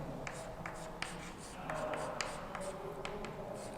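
A pen writes by hand during a lecture on trigonometric library functions, producing quick scratchy strokes and small taps in an irregular rhythm, close and fairly quiet against a faint room background.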